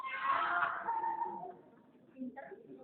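A group of women at a religious gathering in a mosque imitates a cat's meow together, loud at first then trailing off, with a brief softer murmur near the end.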